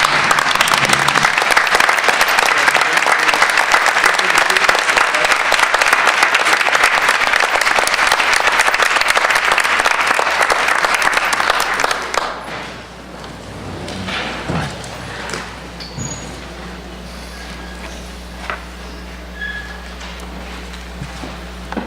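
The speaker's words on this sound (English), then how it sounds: "Let's give Amelie a huge round of applause on obtaining this great honor." Loud, full applause from the audience at a Hoboken Board of Education meeting, steady for about twelve seconds before breaking off abruptly into quiet room noise with scattered faint shuffles.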